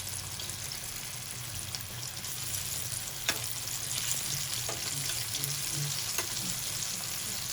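Chicken zinger strips crackle and sizzle steadily in hot frying oil as they are turned, a close, continuous frying hiss with a few sharp pops and soft scraping touches.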